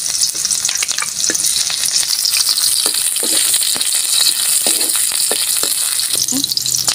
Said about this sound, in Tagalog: Isasabayin po natin yung sibuyas at bawang